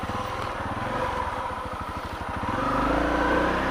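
A Honda CRF250L dual-sport motorcycle engine chugs with rapid, pulsing firing beats while riding through wet woods, then revs up into a louder, rising roar in the final second.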